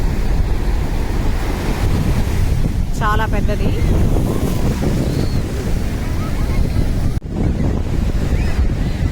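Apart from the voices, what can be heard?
ocean waves and wind at Nagore beach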